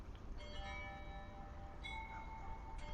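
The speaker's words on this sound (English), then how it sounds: "There are those chimes again" Faint chimes ring out in two soft, sustained tonal strikes with lingering overtones, heard against a steady background rumble.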